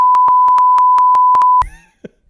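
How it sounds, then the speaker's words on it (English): Censor beep laid over speech: a steady, loud pure tone pulsing in a rapid series of about ten evenly spaced bursts, then cutting off abruptly into a brief garbled voice fragment and near silence. "put a beep over"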